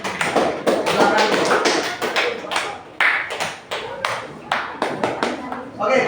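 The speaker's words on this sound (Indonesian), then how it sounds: "Silakan beri tepuk tangan pada temannya." Students in a classroom clap for classmates, scattered uneven bursts of hand claps with short gaps and a few louder slaps, close by, with voices mixed in among the clapping.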